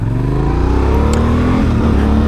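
A Yamaha Tenere 700 motorcycle accelerates on a test track, its engine note climbing steadily in a loud, continuous near drone with rising harmonics and no speech.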